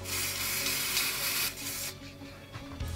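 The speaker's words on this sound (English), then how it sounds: "I'll seal it up, a bit of a sealer, so then hopefully it stays on." Sealer hisses from a spray can onto model railway scenery trees in one sustained burst lasting about two seconds, then a quieter short spray follows.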